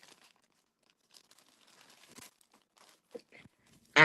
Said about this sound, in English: I put it in a plastic bag